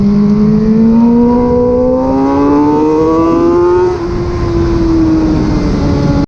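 Car accelerates along the straight at Cadwell Park racing circuit, a loud, close engine note with rising harmonics that climbs steadily, then levels off into a sustained whine.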